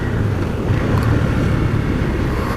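Royal Enfield Interceptor 650 motorcycle accelerating in 4th gear around 4000 RPM with slight lag, a steady loud close engine drone mixed with wind rush, no talking.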